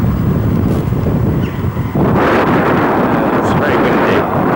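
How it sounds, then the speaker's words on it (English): Heavy wind buffets the microphone in a loud, continuous rumble that gusts harder midway, with no clear voices. "It's very windy,"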